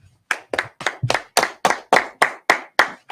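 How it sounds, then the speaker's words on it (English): Claps for two brothers being introduced at a Sabbath service, about a dozen sharp, distinct hand claps in a steady, fairly even rhythm, close and clear against a quiet room. "Clap it up for the brothers."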